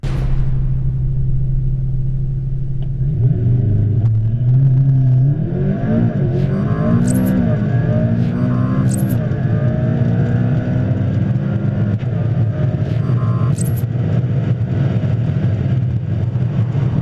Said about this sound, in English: presenting a world-exclusive acceleration run in the McLaren P1